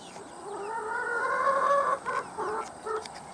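Chickens clucking inside a coop during cleaning, several soft rising clucks and short calls close by, fairly quiet, with a few choppy bursts near the end.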